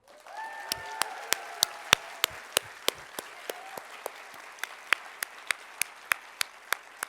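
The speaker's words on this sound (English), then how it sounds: "So let's give a rousing, and I mean rousing, applause to all our sponsors here this evening." Audience at an evening nursing excellence awards ceremony applauding the sponsors, a thin scattering of hand claps at first, then a single loud, evenly spaced clap repeating clearly over fading room applause.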